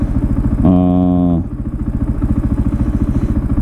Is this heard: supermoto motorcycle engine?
yes